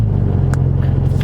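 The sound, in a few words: Dodge Charger Scat Pack 392 engine running in eco mode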